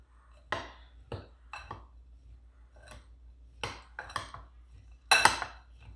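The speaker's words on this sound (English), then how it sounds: "I need a spoon, since I forgot one. We'll give this a stir." A spoon stirs a baklava sugar mixture in a small container, making sharp, irregular clinks and scrapes against the sides, close and fairly quiet, with pauses between strokes.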